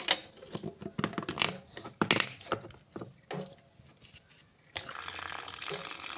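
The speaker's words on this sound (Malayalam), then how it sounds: "എന്നിട്ട് തോനി വെള്ളം ചേർത്ത് കൊടുക്കും" Boiling water is poured onto milk powder. First come close clinks and knocks of utensils, then a steady pouring rush in the last second and a half.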